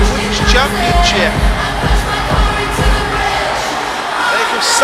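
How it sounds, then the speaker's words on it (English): Wrestling crowd at an OFW Extreme event cheering for Sasha King's entrance, a loud, steady roar with shouts and rhythmic beats underneath, while a commentator talks over it. "the crowd getting right behind her"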